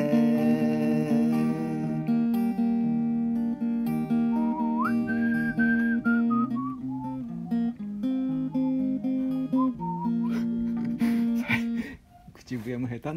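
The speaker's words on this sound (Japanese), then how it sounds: "口笛も下手になったな" A person whistles a wavering melody during a casual acoustic cover-singing livestream, the tune rising and falling over steady guitar-like tones that run throughout, fairly close and moderately loud.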